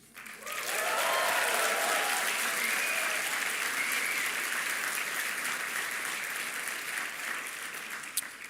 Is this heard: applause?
yes